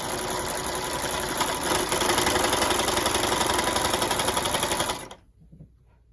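A sewing machine rolling a quick hem runs in a steady, close mechanical whir for about five seconds, then stops abruptly, leaving faint handling sounds and no talking.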